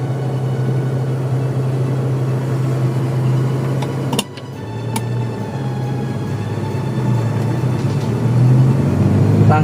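A 1997 Toyota Kijang LGX pulls away in second gear with a steady, close engine rumble, a brief dip as the gear catches, then the drone builds again.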